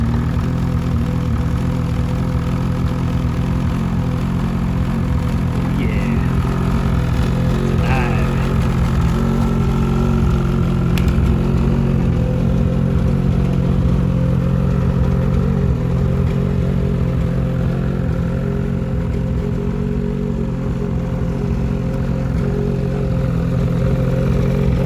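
A 2021 Ski-doo 850 Turbo snowmobile engine runs steadily at a close, loud idle with a constant low rumble and a little mechanical clatter, continuing unbroken the whole time.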